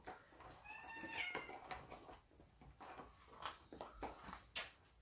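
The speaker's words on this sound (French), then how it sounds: "comme vous pouvez l'entendre, on a des chats à la maison." House cats meow at home: faint, short mews come and go at a distance over a soft room background with scattered small clicks and rustles.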